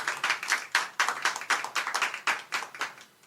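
A small audience at a Catholic-versus-atheist debate claps in a short, sparse burst of distinct handclaps, fairly close and rhythmic, with no talk.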